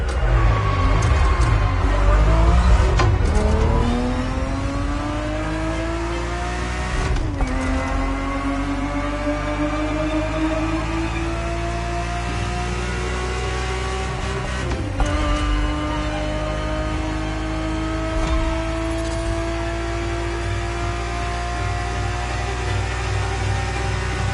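A Ferrari 365 GTB4 engine in the racing game Motorfest revs loudly and continuously, rising in pitch through repeated gear shifts with brief drops between each pull.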